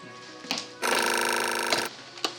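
A telephone rings in one sustained electronic burst of about a second, with a few short knocks before and after.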